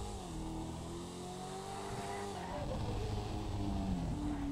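A Chevy Bel Air in GTA 5 revs its engine with a rising, steady rumble that grows slightly louder toward the end, while voices talk faintly underneath.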